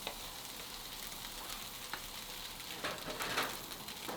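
Spam sizzles on a flat top griddle set to medium high, a steady faint crackle of frying with a few louder pops near the end.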